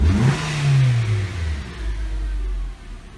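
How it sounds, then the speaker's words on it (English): A Nissan Sentra engine snapped up from idle, rising in a loud revving sweep and then dropping back toward a steady low idle without stalling. "I'm going to try to snap the throttle, see if the idle comes down and it doesn't stall."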